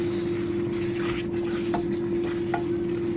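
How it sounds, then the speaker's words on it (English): Tomato paste sauce is stirred in a pot with a soft, steady scraping and gentle bubbling over a constant low hum, with a few faint clinks of the spoon against the pot. "So I go ahead and give it a nice stir so that everything is incorporated in well."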